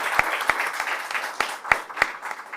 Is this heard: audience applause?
yes